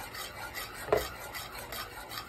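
A spoon stirs shrimp and grits in a pot with soft, rhythmic scraping and rubbing, quiet and close, with one slightly sharper scrape partway through and no voices.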